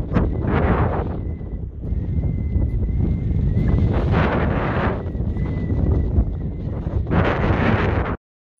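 Strong wind buffets a camera microphone with a loud, steady roar and low rumble that runs unbroken for about eight seconds, surging in a few gusts, then cuts off abruptly.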